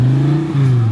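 A car engine revs hard and steadily for about a second, loud and close, with a deep droning exhaust note and a slight dip partway through.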